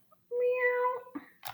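A single drawn-out cat meow, clear and close, followed by a couple of faint rustles.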